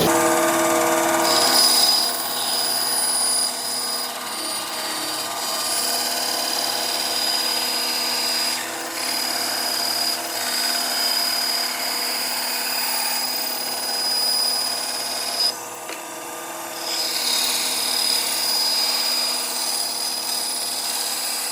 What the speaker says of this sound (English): So guys, this is a bandsaw.